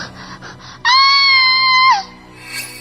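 A girl lets out one loud, piercing, sustained scream lasting about a second, set in a haunted school, rising abruptly out of a quiet background and then breaking off.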